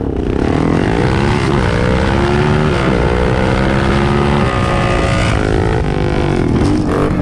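Yamaha Raptor 700 and Can-Am Renegade 1000 ATVs launch side by side in a drag race, engines roaring loud and close with rising, shifting revs that sweep up and drop through gear changes, continuous without pause.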